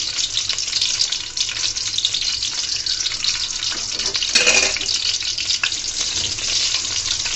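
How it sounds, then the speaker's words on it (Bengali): Chopped garlic frying in hot oil, a loud continuous close sizzle with a brief surge of crackle midway, no talking. "দিয়ে রসুন কুচিগুলোকে আগে সুন্দর করে আমি লাল করে নেব"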